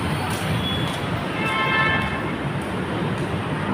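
An LRT train passes nearby in a steady, broad rumble with a brief metallic squeal midway, heard against general street noise.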